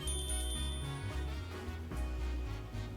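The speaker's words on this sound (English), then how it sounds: "I'll try ringing the bell they let me." A bell rung in Detective Pikachu Returns to call back a Gossifleur from the choir, sounding as steady repeated tones layered over game music with no talking.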